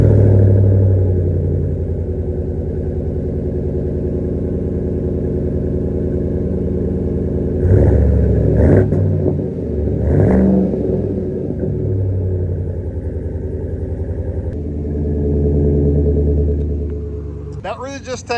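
A lifted 2023 Chevy Silverado RST Z71 Everest Edition V8 with a Flowmaster American Thunder Series exhaust idles with a loud, steady low rumble, then revs in several short bursts before settling back.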